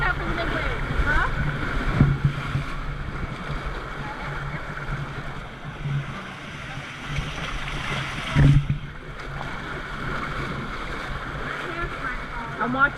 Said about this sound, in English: Watch out for the big waves, huh?